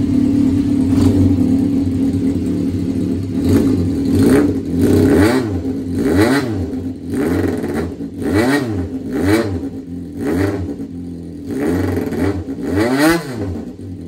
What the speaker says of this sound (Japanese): とりあえず最後のエンジン始動ということで